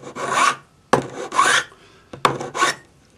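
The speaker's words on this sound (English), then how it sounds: "So I'm just rounding the end with my file." A hand file rounds the end of a stamped metal spiral bracelet in three distinct rasping strokes, each a close, loud scrape separated by short pauses.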